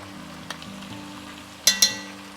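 Mutton korma with ground coriander, red chili, turmeric and korma masala sizzles gently in a pan while being mixed, a low steady frying hiss broken by a few sharp clanks of the spoon against the pot.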